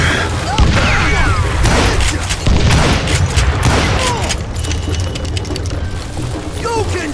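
Gunfire from the Western shooter game Call of Juarez Gunslinger: rapid, loud shots and booming impacts crowd together, mixed with game effects and shouted voices.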